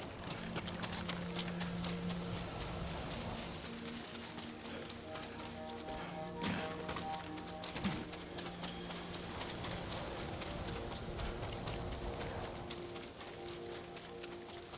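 Horse hooves clip-clop at a steady trotting rhythm in Ghost of Tsushima, moderately loud and continuous over game music and ambient birdsong.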